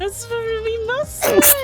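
A person gives one sharp, loud sneeze near the end of a short stretch of speech during a gaming stream.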